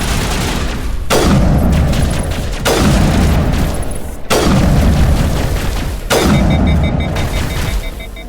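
Four heavy, booming turret shots from the Mass Effect video game, spaced about a second and a half apart, each with a long rumbling decay, loud and close with no talk over them.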